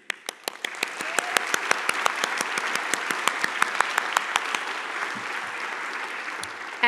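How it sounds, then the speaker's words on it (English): Sustained audience applause filling a hall at a conference closing session, dense and steady with sharp individual claps standing out near the front, fading slightly toward the end. "now it's the time when you keep clapping"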